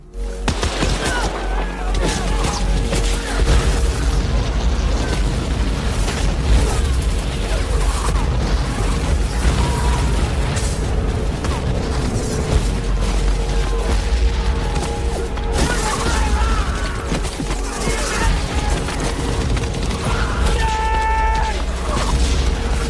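The Thin Red Line, a World War II film of American troops fighting Japanese forces in grassy hills and jungle, delivers a dense, unbroken roar of booming explosions, crashes and gunfire that stays loud throughout, with a voice now and then.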